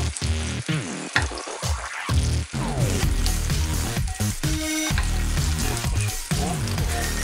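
Monkfish tail sizzling and frying in a hot pan, a steady loud crackle with brief stirring and turning noises, no talk over it.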